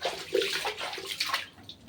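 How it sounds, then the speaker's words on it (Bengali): Floodwater in a kitchen under the stairs sloshes and splashes close by in brief, irregular churning surges, with no talk. "অনেক জল রান্নাঘরে।"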